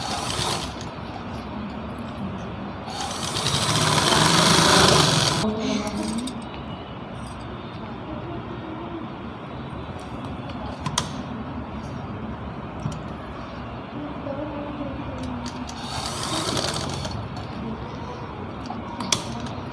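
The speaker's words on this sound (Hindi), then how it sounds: "तो देखो अभी मैं सिलाई लगा के दिखाती हूँ।" An electric sewing machine stitches a folded strip on a women's suit top, running in two loud whirring bursts with quieter mechanical handling and faint background noise in between.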